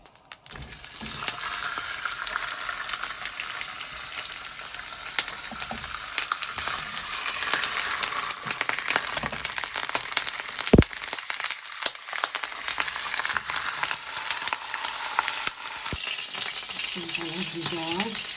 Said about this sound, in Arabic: وشي راح نشوح الدجاج